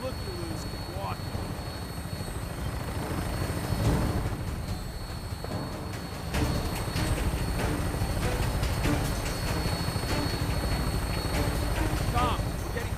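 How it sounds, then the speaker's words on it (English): A vertibird aircraft thrums overhead in Fallout 4, its rotor-like beating and low engine rumble running loud and continuous throughout, with game dialogue voices speaking over it. "Tinker's gonna keep the vertibird spooled for an immediate takeoff"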